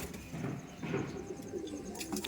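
A giribaz pigeon coos softly from close by, its throat vibrating in low, repeated murmurs against faint background noise, with no voices.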